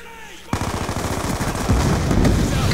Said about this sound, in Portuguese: Fiquei atirando, que nem louco.